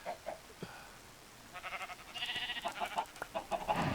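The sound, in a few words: sheep bleating in the video game Minecraft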